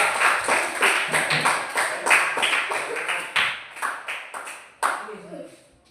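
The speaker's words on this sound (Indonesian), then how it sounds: "tepuk tangan dulu untuk kelompok 2" Classroom applause for a student group: a burst of quick, close hand claps that fades unevenly, followed by a few scattered sharper claps, with voices in the room.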